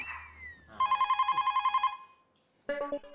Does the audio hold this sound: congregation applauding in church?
no